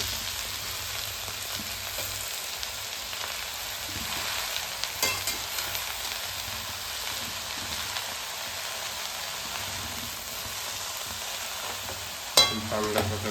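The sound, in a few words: chilli, garlic and cumin frying and being stirred on low flame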